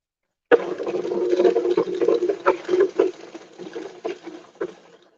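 Water pours from a milk jug to water plants, a close, splashing trickle with uneven gurgling bursts that tapers off.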